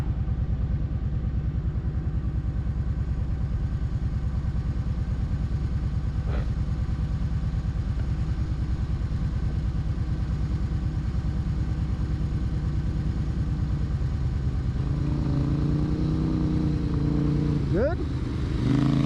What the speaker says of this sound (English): So he's doing some runs up and down here, see if it overheats again or not